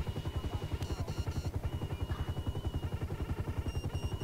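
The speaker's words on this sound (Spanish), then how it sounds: "O sea, ¿no sospecha el tío de tener un helicóptero encima?" A police helicopter hovers overhead in GTA V, its rotor a rapid, even low thudding that pulses steadily throughout, fairly quiet, with brief higher mechanical clatters and tones layered over it; no one speaks.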